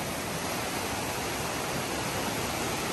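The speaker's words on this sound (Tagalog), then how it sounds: "Yan na guys, abot dito yung baha guys, oh." Typhoon floodwater rises and rushes past, a dense, steady broadband roar of flowing water, close and unbroken for the whole stretch.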